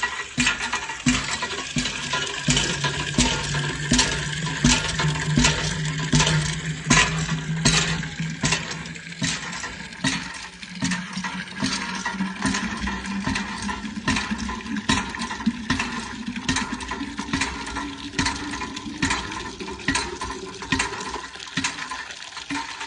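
Water running steadily into a clay matka pot, a long continuous gurgling stream whose pitch slowly rises as the pot fills, close and moderately loud with small clinks and splashes along the way.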